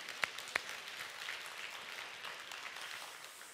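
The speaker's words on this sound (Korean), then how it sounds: "박수 한번 부탁드릴게요." Audience applause at a church worship service, a dense wash of many hands clapping at a distance, with a couple of sharper nearby claps at the start.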